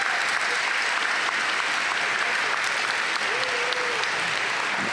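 Sustained applause from a convocation audience honoring award recipients, a dense steady wash of clapping filling the whole stretch with no gaps, fairly loud and even throughout.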